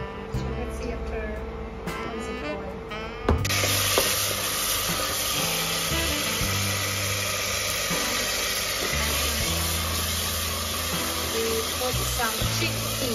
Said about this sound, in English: And now we start just to stir in the middle